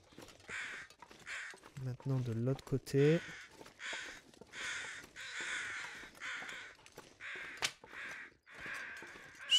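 Crow cawing in the survival video game The Long Dark, a series of harsh repeated caws in rhythmic bursts, with someone talking briefly over them.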